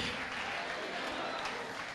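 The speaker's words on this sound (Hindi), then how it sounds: "5 दफा हालेलुया और तालियां बुलंद आवाज से" A church congregation applauds loudly during a worship service, a continuous, somewhat distant wash of clapping mixed with crowd voices.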